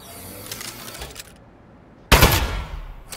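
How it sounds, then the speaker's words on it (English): A toy-like gun in Aperture Desk Job fires one loud, sharp burst of shooting after a stretch of quieter clatter, with a dense, crackling tail that rings on to the end. "Shooting!"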